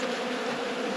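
Robber bees buzzing around a beehive frame during a late-season hive inspection, a continuous close droning hum that is steady and moderately loud, with no talk.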